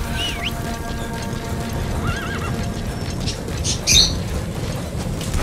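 Horse in Metal Gear Solid V neighing and whinnying over steady hoof clip-clop, a loud whinny near the start and another burst around the middle, with a thudding gallop rumbling throughout and no talk.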